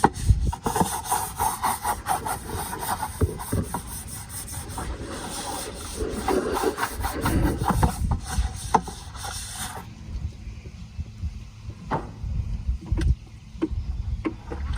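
Steady, close scrubbing and rubbing while goat feeders or waterers get cleaned, rough and continuous for about ten seconds, then quieter strokes broken by a few sharp knocks and clunks, with no talking.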